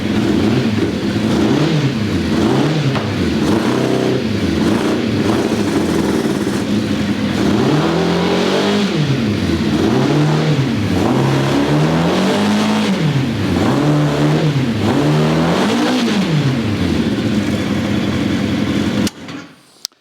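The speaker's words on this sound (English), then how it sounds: "So I lowered the idle a bit, but of course the engine still needs to be tuned" A loud Formula Konig race car engine revs continuously, rising and falling in pitch in repeated swells, close by, until it cuts off abruptly near the end.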